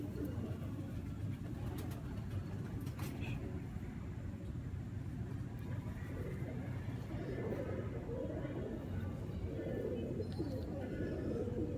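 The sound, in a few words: female pigeon cooing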